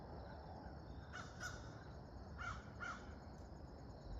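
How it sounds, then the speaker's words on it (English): Crows caw faintly in the distance on the Cape Cod coast, a pair of calls and then two more, over a steady low rumble of wind or background noise. "We break for crows."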